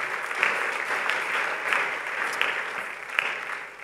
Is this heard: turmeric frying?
no